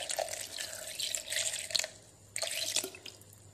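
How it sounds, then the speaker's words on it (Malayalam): Water poured from a container into a mixer jar holding bilimbi pieces and sugar for juice, a splashing pour in two bursts with a brief pause between, close and fairly quiet, with no talking. "ആവശ്യത്തിന് വെള്ളം ഒഴിച്ചിട്ട്"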